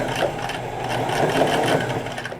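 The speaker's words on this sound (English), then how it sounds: "this stitch is to stitch down that hem, and I want to go as close to the edge as possible" Sewing machine stitching down a T-shirt hem, a loud, close, steady mechanical whir with rapid needle chatter throughout, no talk.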